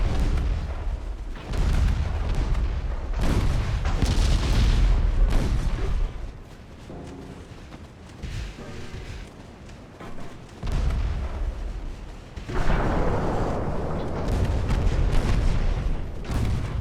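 Battleship naval gunfire and shell hits in the Ultimate Admiral Dreadnoughts warship game: loud, heavy booms and rumbling explosions come in repeated bursts, with short quieter gaps between salvos.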